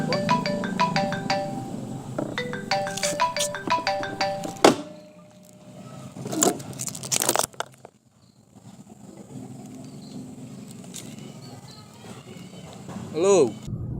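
A mobile phone ringtone plays a repeating melodic pattern for several seconds, close and clear, then stops abruptly with a thunk; quieter rustling and faint sounds follow in a Sundanese short film scene.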